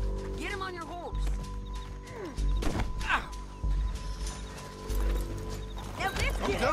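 Horse hooves clopping along in Red Dead Redemption 2, with thuds, a whinny and other effects mixed in beneath voices.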